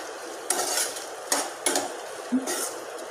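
A spoon scrapes and knocks against a frying pan while stirring lauki kofta, several distinct clanks and sliding strokes spaced through the clip under a faint sizzle.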